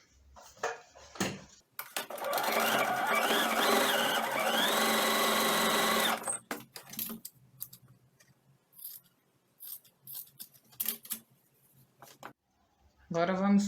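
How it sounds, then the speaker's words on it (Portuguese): A sewing machine runs a single steady seam across a fabric elephant pillow, a continuous whirring burst of about four seconds, close and fairly loud, with someone speaking briefly before and after it. "Passar uma costura."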